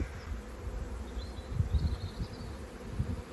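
Honey bees buzzing around an open beehive during an inspection of capped brood frames, a steady close hum with soft handling bumps and no speech.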